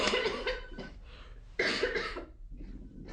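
Holly, a woman fighting a flu infection, gives two bursts of harsh, close coughing separated by a brief pause, followed by a softer trailing cough.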